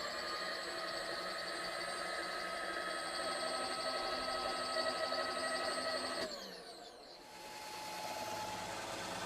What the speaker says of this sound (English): So this is a conventional cut, so I want to come from this side and go this direction to get a better finish.